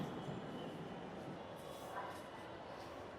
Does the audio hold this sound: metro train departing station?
yes